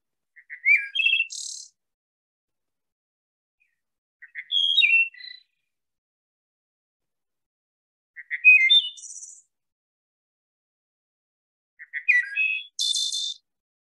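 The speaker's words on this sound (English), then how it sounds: "Wood thrush." A wood thrush sings four clear, fluting phrases spaced evenly apart, each ending in a buzzy trill, ringing out alone against silence.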